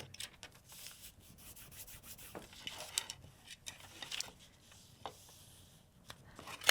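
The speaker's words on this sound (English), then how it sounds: "I know I need to rip my paper just a touch" Paper being ripped and creased by hand while doing foundation paper piecing for quilting: a series of close, crisp scratchy tears and rustles in short uneven bursts, with no talking.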